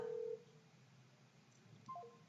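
Electronic tones sound on a smartphone as a video call is placed: a brief steady beep, then a faint pause, then a short descending series of tones, quiet and close.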